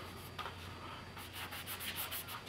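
Light sanding of a model airplane control surface to soften a raised edge, with soft, steady rubbing strokes that repeat in a quick rhythm, close and fairly quiet over a faint background hum.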